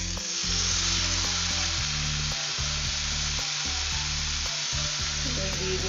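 Leafy greens with chilli powder fry in hot oil, a dense continuous hiss under a strong, steady low pulsing hum, with no talking.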